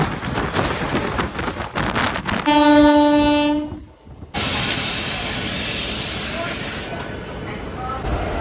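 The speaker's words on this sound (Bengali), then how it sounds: "আমার ট্রেন ছেড়ে দিল কামারকুণ্ডু রেলওয়ে স্টেশন থেকে" A local train pulls out of Kamarkundu station, its loud horn sounding once before a sustained hissing rumble of the moving carriages takes over.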